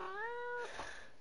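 A single pet cat gives one short rising meow indoors, fairly close but soft, fading into quiet room tone after about half a second.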